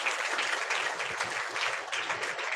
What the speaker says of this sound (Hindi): एक बार जोरदार ताली बजाकर महिमा करें प्रभु की।